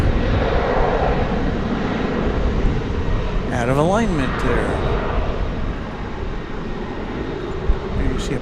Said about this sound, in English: plane lifting off from the east side at the same time as one is taking off here from the west side